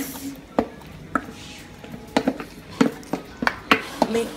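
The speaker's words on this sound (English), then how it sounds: "Mix to incorporate all the ingredients." Banana ice cream ingredients being mixed in a bowl with a utensil, producing irregular clinks and knocks against the bowl over a soft background.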